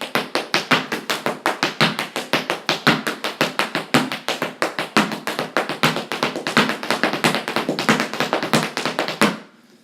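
A long run of rapid, sharp Irish dance hard-shoe taps (bang tip-diddly step) beating in quick, even rhythm, close and loud, ending suddenly near the end.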